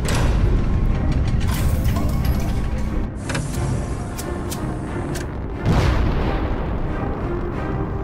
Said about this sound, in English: Activating backdoor cannons.